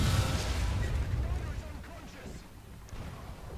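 Tank cannon fire from the War Thunder battle featuring an SU-100Y tank destroyer, a dull low boom and rumble trailing off into the background of combat, with talking heard over it.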